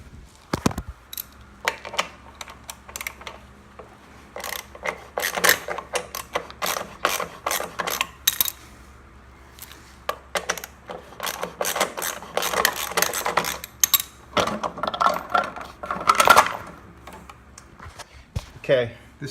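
Repeated ratcheting clicks and metallic tool clatter as a wheel is removed from a Toro Personal Pace mower, irregular bursts up close with pauses and occasional talk.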